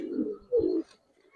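Pigeons in a breeding loft of giribaz and coloured fancy pigeons coo close by, two short throaty bursts followed by a quieter pause, with no talking.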